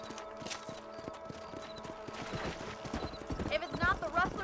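Horse hooves from the video game Red Dead Redemption clip-clop in a steady rhythm under talking, with a snort or whinny near the end.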